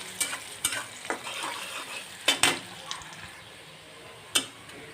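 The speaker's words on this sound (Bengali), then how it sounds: "পেঁয়াজটাকে ভেজে নেব ব্রাউন কালার হলে ডালে দিয়ে দিব" Onion and garlic fry in a pan for dal, with soft sizzling and a few sharp stirring scrapes and clinks standing out over the steady crackle.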